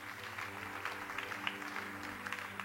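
Church congregation applauding, a steady wash of many hands clapping at a distance, fairly faint and sustained throughout with no voices standing out.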